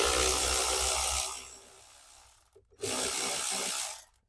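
A ratchet fitted with an 8mm socket works bolts loose inside a BMW E30 interior, giving two close bursts of rapid mechanical clicking separated by a brief pause.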